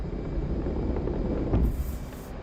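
An F-18 jet in the DCS flight simulator roars through its takeoff run, a steady, loud, low rumbling engine drone that swells slightly near the end.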